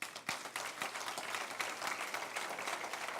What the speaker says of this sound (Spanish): Un aplauso al Señor.